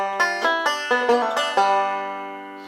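A five-string banjo picks a short G-major lick in open position, about seven bright, twangy plucked notes in a quick rhythm, the last note ringing out and fading.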